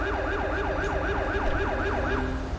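A police siren from Grand Theft Auto V with LSPDFR wails in a steady, looping rise-and-fall pattern, loud and close, sustained throughout a pursuit with traffic rumble underneath and no talking.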